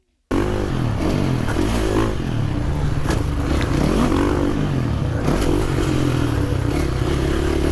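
A 450 supercross motorcycle engine at a Paris supercross event, running steadily and loud throughout with a continuous droning rev and some clatter, no talking over it.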